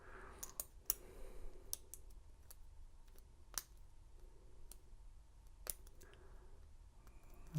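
Small metallic clicks and ticks from probing the pins of a Master Lock 230 padlock with a pick, scattered and irregular over a quiet background, close and faint.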